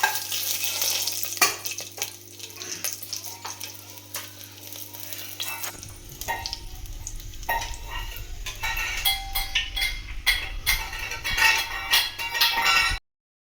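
Whole spices, among them cardamom, sizzle and crackle in hot ghee in a pan for chicken biryani, a loud, steady frying hiss close by, with stirring scrapes and a rising burst of spatter partway through.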